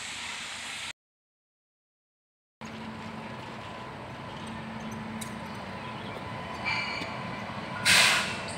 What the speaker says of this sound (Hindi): तो आप देख सकते हैं एक मालगाड़ी यहाँ पर आ गई गुड्स ट्रेन